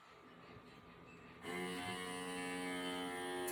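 A small vacuum pump switches on partway through and runs with a steady electric whine and hum, drawing air out of a canning jar holding freeze-dried apples.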